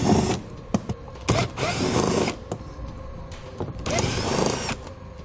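A power drill runs loudly and close up while backing out 5.5mm screws that hold the fender liner to the front fascia in the wheel well of a 2017 Ford Edge. It whirs in several bursts with brief pauses and ratcheting clicks, and no one talks.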